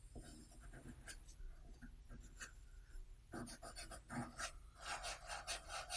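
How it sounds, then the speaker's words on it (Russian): Pastel pencils scratching across paper while a cupcake food illustration is drawn, with soft, irregular close strokes that quicken into denser scribbling near the end, and no voices. "Но это вообще-то пастельные карандаши, они так рисуют по бумаге."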